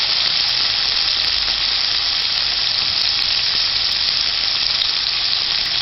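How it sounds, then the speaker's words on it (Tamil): Onions sautéing in a pan for Madurai kothu parotta, with tomatoes and salt to follow, give a loud, steady hiss and sizzle that runs unbroken from start to finish, with no voices. "வெங்காயம் இந்த மாதிரி லைட்டாக நல்லா வதங்கணுன்னே நல்லாவே வதக்கிக்கோங்க."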